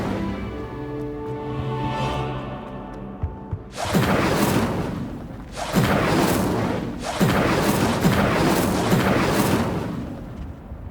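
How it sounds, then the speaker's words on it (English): Fire spell Incendio cast repeatedly in the video game Hogwarts Legacy, three loud whooshing fiery bursts in succession over a sustained musical drone, each burst roaring broadband and decaying before the next. "Incendio! Revelio! Incendio!"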